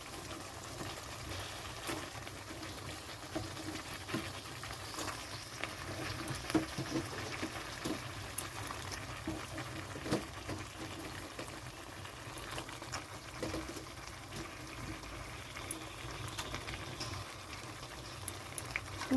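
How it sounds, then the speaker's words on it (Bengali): Chicken pieces are added to a pan of cooked spice masala for chicken kosha, giving a steady, soft bubbling sizzle with faint crackles and pops. It runs evenly throughout, with no talking. "তো এখন আমি এখানে চিকেনগুলো দিয়ে দিচ্ছি।"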